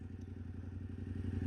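Yamaha Ténéré 700 motorcycle engine pulling hard from a launch, a steady loud low rumble with rhythmic pulsing that builds slightly in intensity throughout, no talking.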